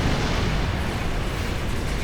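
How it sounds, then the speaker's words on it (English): Torpedo spread detonating in the space combat game Star Trek Online, a dense, continuous rumble of overlapping explosions and booms, loud and steady throughout with no pauses. "Very nice torpedo spread."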